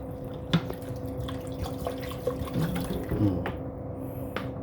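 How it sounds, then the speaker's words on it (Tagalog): Water is poured into a pressure cooker holding tuna. The trickle and splash are faint and steady, with a few soft drips over a low background hum. "So, lalagyan na po natin ng tubig."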